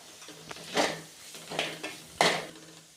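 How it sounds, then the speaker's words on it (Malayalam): A spoon scrapes and clanks in a pan while coriander powder is stirred into sautéed onions, three distinct strokes with soft sizzling between them. "എടുത്തു വെച്ച മല്ലിപ്പൊടി ഇട്ട് ഇളക്കാം"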